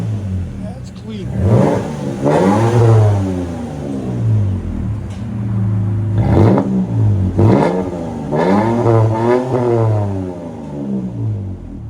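A 2024 Toyota Tacoma 3.5L V6 with its muffler cut off and a Flowmaster Super 10 fitted is revved repeatedly. Several loud, close throttle blips rise and fall over a steady idle rumble.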